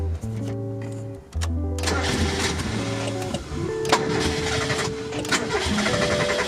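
A Mazda Miata engine cranks with a starter whine, then catches and runs, its pitch rising and falling as it is revved, loud and close.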